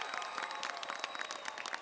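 A graduation audience at the Merritt College 2024 ceremony applauds family and friends: a brief burst of dense crowd clapping, full and continuous, heard alone without speech.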